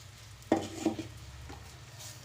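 A crushed green gram mixture is stirred in a frying pan, giving a couple of sharp spoon-on-metal knocks and scrapes over a faint, low sizzle, with no voices.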